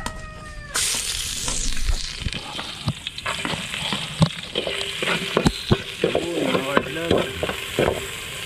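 Punay dove meat and fish sauce being stirred in a hot pan, loud close sizzling with repeated scraping and knocking of the spatula, irregular clatters building toward the end.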